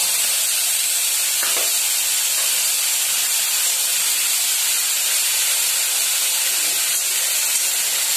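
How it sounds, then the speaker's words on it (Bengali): Cumin seeds and spices sizzle in hot oil in a frying pan, a loud, steady, close hiss that runs unbroken with no talking. "এর মধ্যে একটু জিরে ফোড়ন দিয়ে দেব,"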